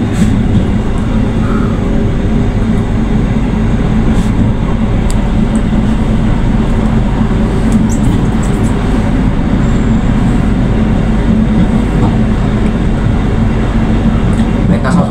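A passenger train idles at a station in Tegal, Indonesia, with a constant low rumble and hum, with faint voices and clatter in the background.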